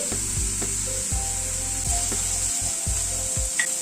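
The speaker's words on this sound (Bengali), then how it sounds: "পেঁয়াজটাকে একটু হালকা করে আগে ভেজে নিচ্ছি" Two medium onions, chopped, fry lightly in a pan as they are stirred, a soft sizzle behind repeated low scraping strokes of a spatula, close up with no voices.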